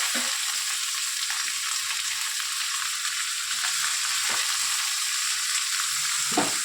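Potato and pointed gourd fry in hot oil in a pan, a steady close sizzle with occasional scrapes of stirring running through the whole stretch.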